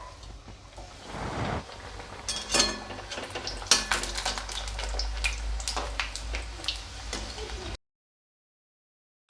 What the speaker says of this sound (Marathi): कढईतील तेल गरम झालेलं आहे। आता आपण या पुऱ्या तळून घेणार आहे।